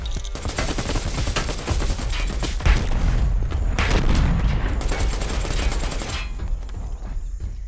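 Grenade blast and rapid gunfire in the video game Predator: Hunting Grounds, a loud continuous barrage of shots with a heavier boom around the middle, dense and close.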